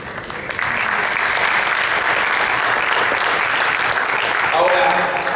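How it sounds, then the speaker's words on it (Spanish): Crowd at a political campaign speech in Argentina breaks into sustained, dense applause that stays loud and even throughout, with cheering voices mixed into the clapping. "yo digo eso, todos aplauden"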